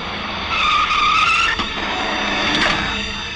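A car brakes hard to a stop in a 90s Hindi comedy film scene, its tyres skidding with a loud, sustained squeal for about a second, then a rougher scrape as it halts, with no talking.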